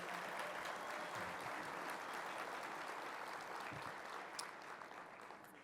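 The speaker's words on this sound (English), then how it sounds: "Can we get a round of applause for that wonderful performance?" An audience at a downtown civic event applauds after an arts group's performance, with sustained clapping that fills the room and then slowly thins out.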